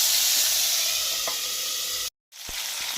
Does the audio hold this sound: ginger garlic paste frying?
yes